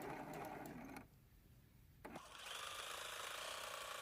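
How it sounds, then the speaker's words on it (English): A sewing machine runs steadily while stitching a long continuous seam that joins two quilt pieces. The motor briefly pauses, then resumes with an even, close-up whir. "I thought I'd bring you along as I sew this long continuous seam joining the 2 pieces"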